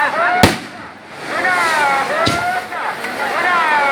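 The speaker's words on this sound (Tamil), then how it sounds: "ஸோ வெடி வழிபாடு பாருங்கள்." Two loud firecracker bursts crack nearby, about two seconds apart, at a temple fire-walking festival, while people talk and call out continuously around them.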